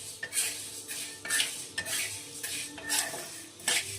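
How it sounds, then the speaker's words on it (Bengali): Kalai pulses are stirred as they fry in a pan, a series of quiet rhythmic scraping strokes with light metallic clinks about once a second over a faint sizzle. "কলাইগুলো ভাজছি।"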